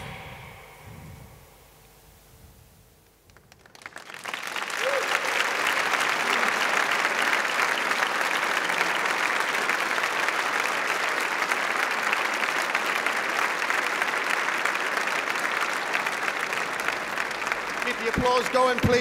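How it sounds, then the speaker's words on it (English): A school audience at Holly Lodge Girls' College bursts into loud, sustained applause after a stage performance. Quiet sounds come first, then the clapping swells and holds steady for a long stretch. "Keep the applause going, please, as they leave the stage."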